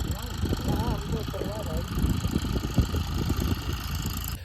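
A tractor engine chugs at a steady mid-low rumble while ploughing a farm field, with a voice talking over the running engine throughout.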